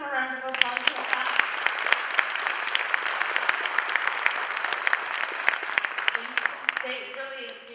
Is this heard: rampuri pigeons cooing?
no